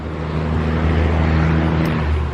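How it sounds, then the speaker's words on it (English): A steady roar of road traffic rises from Route 61, a major highway near a small garden, loud and continuous as cars hum past without a break. "Oh, and I apologize for any like traffic noise."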